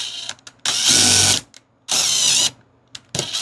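A power drill drives screws into the thin single-layer sheet metal of a Kia Ray trunk during a car audio install, in two loud sustained whirring bursts with short quiet gaps and brief trigger blips between.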